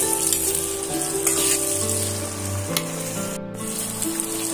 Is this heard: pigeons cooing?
no